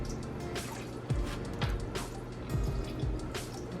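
Water is poured into a cooking pot while making Worcestershire sauce chicken, giving a soft, close trickle with a few light drips and splashes, heard alone without talking.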